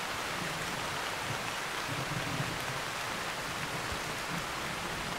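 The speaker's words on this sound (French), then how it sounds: "Alors que la pluie redouble, Bill renonce à la suivre." Heavy rain pours down in a forest, a dense, even hiss of drops on foliage and ground that continues without a break.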